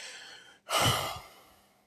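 A man imitates an angry, frustrated exhale through his nose: a short silence, then one loud, breathy rush of air that slowly trails off.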